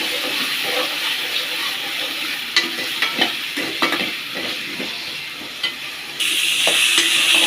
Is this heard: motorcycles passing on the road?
no